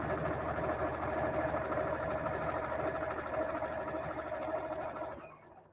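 A sewing machine stitching fabric runs steadily with a fast, even mechanical whirr and needle chatter, close and continuous, then slows and stops at the end.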